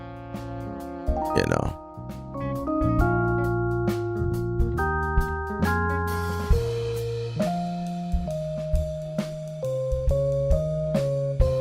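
Music from the Final Fantasy 7 video game plays as a steady, bright melodic loop with a punchy beat, while a voice talks briefly over it.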